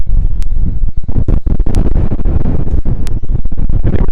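Strong gusts of wind buffet the microphone outdoors at Thekkady in Kerala, producing loud, continuous low rumbling and flapping with a few brief sharp crackles, and no talking.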